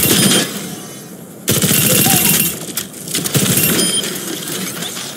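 Weapon fire from a railgun in Overwatch 2, with loud crackling bursts of shots separated by short pauses, close and sharp, with little talk.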